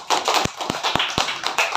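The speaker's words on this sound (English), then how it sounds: "Clap for Soumya." A classroom of young students claps for a classmate, giving sharp, evenly spaced claps in a quick rhythm, close and fairly loud, about six distinct hits over under two seconds.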